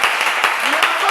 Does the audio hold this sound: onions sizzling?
no